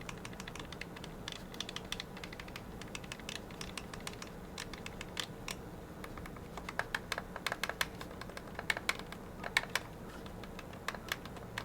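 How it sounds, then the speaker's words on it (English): Button presses on a Gamesir G8 Plus mobile game controller, a steady run of soft, rapid clicks and taps, quiet and close, with no talking. "I want to show you guys how these sound. The buttons do sound different"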